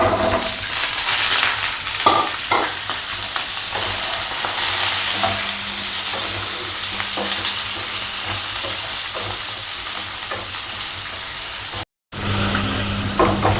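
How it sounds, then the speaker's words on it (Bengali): Potatoes and nigella seeds fry in hot oil for an aloo sabzi while being stirred, giving a steady close sizzle with occasional scraping clicks throughout, a brief dropout near the end, and no talk. "তেলটা গরম আছে, এবার আমি হালকা এতে কালো জিরে দিয়ে দেবো।"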